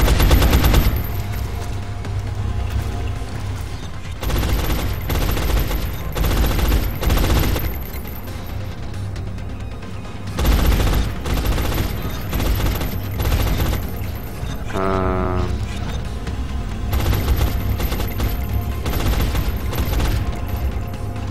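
Sustained suppression machine gun fire in the XCOM: Long War video game, loud rattling bursts repeating across the clip with brief gaps between them, plus one short electronic tonal blip in the middle.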